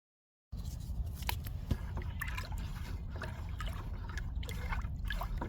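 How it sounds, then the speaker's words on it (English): Beneficial nematodes are poured into water in a garden bucket, a soft continuous trickle and splash after a brief silence, with scattered small drips and clinks, fairly faint and close. "Okay, so I'm adding the nematodes into the water."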